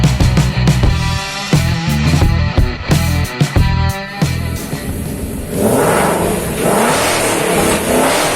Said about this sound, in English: Yan ang tunog muscle car.